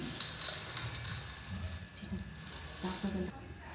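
Sesame seeds and chickpeas dry-roast in a pan with light scraping, rattling stirs and faint crackle, while a person talks over the cooking throughout.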